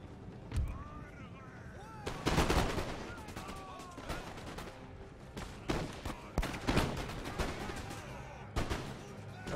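Repeated bursts of massed musket-line volleys in the video game Empire: Total War crack out in clusters over a continuous battle din, with faint voices in the background.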